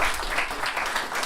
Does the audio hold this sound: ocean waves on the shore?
no